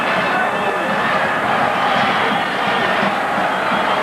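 Stadium crowd noise from a 1999 rugby match between the Cats and the Hurricanes, a dense, steady roar of many voices cheering throughout, loud and continuous.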